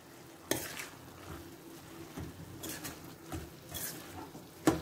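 Radish leaves and besan sabji are stirred in a pan, with soft intermittent scrapes and spoon clatter over a quiet low sizzle.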